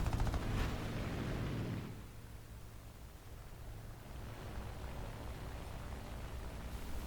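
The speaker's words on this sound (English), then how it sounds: "I start taking shots from a P-47 that's climbing up at me" Gunfire from a P-47 fighter plane in an arcade flight combat game, a dense rattling burst for about two seconds that gives way to a steady rushing noise of wind and engine.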